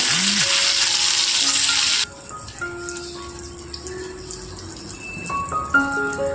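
Fish frying in hot oil gives a loud, steady sizzle for the first two seconds, then drops to a quieter crackle with scattered clinks and tones as the pieces are lifted out.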